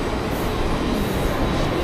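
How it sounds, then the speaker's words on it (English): Commuter train in Mumbai rolling along, a loud steady rumble of carriages and wheels on track heard from inside, continuous with no talk. "Back on the train we go."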